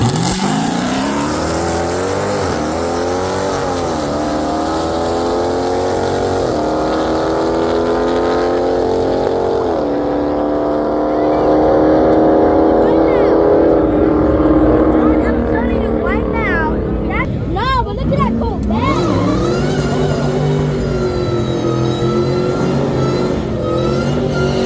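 Ford Mustang race car on a race track, engine revving and accelerating with rising and falling pitch sweeps, loud and continuous, with people talking over it.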